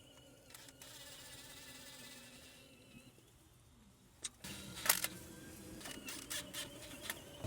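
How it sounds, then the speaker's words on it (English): An impact wrench whirs gently while loosening bolts on an Acura RL, a faint, steady buzzing run followed by scattered metallic clicks and taps nearby. "I'll start using impact wrench for the bottom, but very gently."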